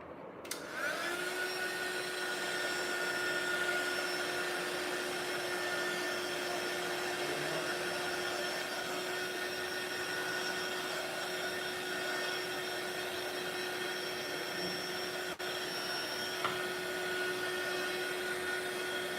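Electric dryer blowing steadily to dry a craft piece, a loud continuous whirring hum that starts abruptly and runs on without pause, close by, with no talking.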